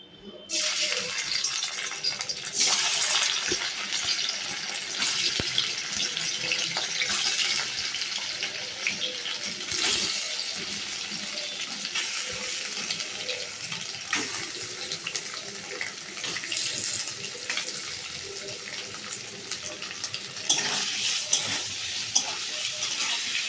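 Paneer fries in hot oil with a continuous bright hiss and sizzle lasting many seconds, punctuated by occasional sharp pops and stirring clatter, with some speech faintly beneath.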